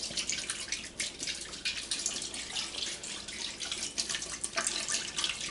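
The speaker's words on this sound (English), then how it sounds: "You just simply pour that into the bottom of this pan." Water pours steadily into the bottom of a pan holding a venison neck, a continuous splashing, trickling stream close by with no talking.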